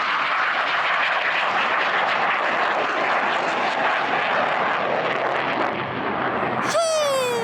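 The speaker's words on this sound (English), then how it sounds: "seeing these planes take off is very cool" A fighter jet flies past near an airstrip, a loud continuous jet roar that holds steady, ending with a sharp rising whistle-like sweep.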